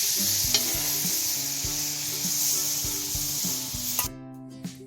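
Amul butter bubbling in a hot pan, a steady close sizzle with occasional utensil scrapes and taps, the frying quieting abruptly near the end.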